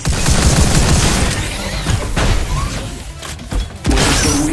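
Rapid gunfire hammers a large robot's weak spots in Robo Recall, loud bursts of shots and metallic crashes with mechanical clanks, easing briefly before a final heavy burst.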